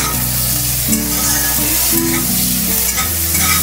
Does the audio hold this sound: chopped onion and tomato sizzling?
yes